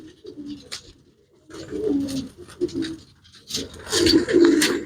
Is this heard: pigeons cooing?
yes